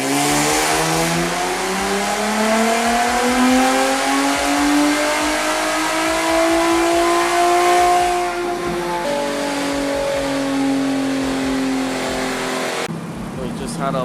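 A race car on a dyno revs hard, its engine pitch climbing steadily in a loud sustained roar, then dropping and cutting off abruptly near the end, with voices underneath.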